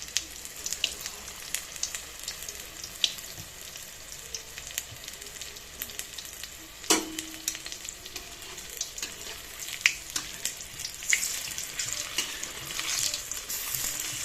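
Cauliflower florets frying lightly in a little oil in a pan, a faint, steady crackling sizzle with scattered pops and one sharp utensil knock midway, no voices.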